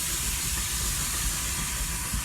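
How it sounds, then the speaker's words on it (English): Loud, continuous hiss of steam from a small steam locomotive at Didcot Railway Centre, with a rhythmic low chuffing underneath, close by. "this little beauty's puffing behind me like mad"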